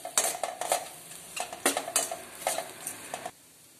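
Okra is sautéed in a kadai for a tamarind curry, with rhythmic spatula scrapes and clatters over a soft sizzle, close and without talk, ending in sudden quiet.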